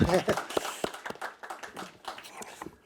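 Scattered audience clapping at a public policy forum: a few close, sharp claps in an irregular rhythm that taper off, with a voice speaking over them.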